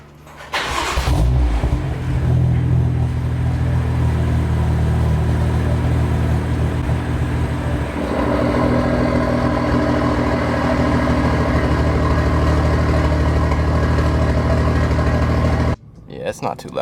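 Turbocharged BMW E30 engine cranking over on a cold start, then idling loud and steady with revs rising around the middle, a deep continuous exhaust rumble close by that cuts off abruptly near the end.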